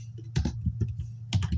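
Computer keyboard typing for a Photoshop poster, a short burst of distinct keystrokes in an uneven rhythm, close and clear, with no talking.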